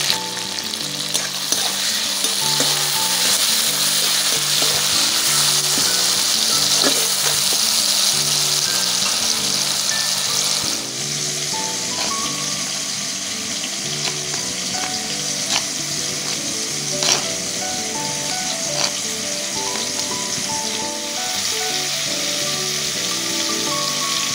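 Chopped tomatoes and salt go into a pan of already fried onions in a village kitchen, giving a loud, continuous sizzle that eases slightly partway through, with faint stirring and no talk.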